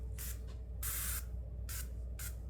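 Aerosol sunscreen sprays from a can in several short hissing bursts, one longer burst in the middle, close and fairly loud, on a cruise ship deck with a steady low background hum.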